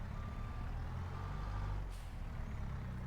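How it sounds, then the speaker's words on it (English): Skid steer loader with a toothed bucket digging dirt in Farming Simulator 22, heard as a steady low diesel engine rumble with hydraulic strain and a faint reversing beep, continuous and fairly close. "Although this skid steer is on the smaller side, it still does the work no problem here for us"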